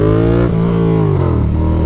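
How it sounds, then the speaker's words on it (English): A Yamaha FZ-07 motorcycle accelerates hard in first gear into a power wheelie at low speed, its engine roaring loud and close with a rising then dipping pitch over a couple of seconds. "First gear power wheelie at like 15 mile an hour."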